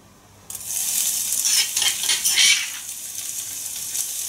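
Pounded chillies hit hot vegetable oil and fry with a loud, bright sizzle that bursts in suddenly and keeps hissing steadily close by, with a few surges of stirring.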